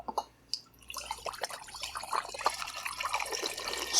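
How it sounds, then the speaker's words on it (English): Homemade tea is poured into a wine fermenter, a steady splashing trickle with scattered drips that starts hesitantly, then settles into a continuous, close, fairly quiet stream. "So I'm just going to pour my tea right into the fermenter."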